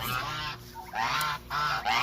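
Huge meat turkeys in a farmyard pen give loud, honking gobble calls in repeated bursts, close and overlapping, with no talk over them.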